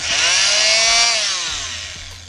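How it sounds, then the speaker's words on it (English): Hyper Tough oscillating cutter tool running loud and close, working on a bass boat transom repair; a harsh, high buzzing whine that holds steady and then eases slightly toward the end, with no voices. "one more time, oscillating cutter tool."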